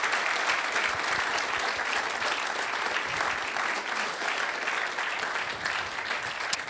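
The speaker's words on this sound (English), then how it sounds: "a round of applause for all our captains and coaches for coming along today" A room full of people gives warm, sustained applause for the Six Nations captains and coaches at the 2017 championship launch, a steady crackle of many hands held at an even level.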